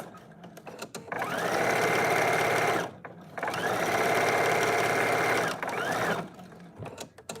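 A sewing machine stitches the sleeves of a shift dress in two long, steady runs separated by a short pause, loud and close.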